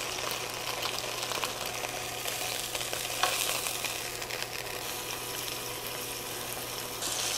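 Meat fries in oil in a pan with a loud, continuous, close sizzle and crackle that holds steady throughout, along with faint stirring.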